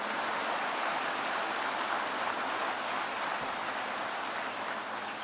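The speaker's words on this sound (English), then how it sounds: "Let's get a round of applause for the great Secretary of Labor." An audience at a vice-presidential speech in Howell, Michigan applauds steadily, a dense continuous wash of clapping that holds at an even level throughout, with no one talking over it.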